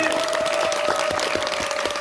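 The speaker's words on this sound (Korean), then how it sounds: "여러분 뜨거운 박수로 좀 알려주시죠" Short burst of audience applause at the final-performance curtain call of a stage musical, dense and steady in a hall with a sustained tone running beneath it.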